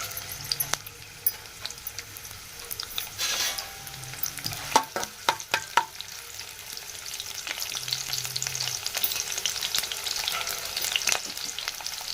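Onions and curry leaves frying in hot oil keep up a steady, close sizzle, broken by a cluster of sharp spatula scrapes and clacks against the pan around the middle.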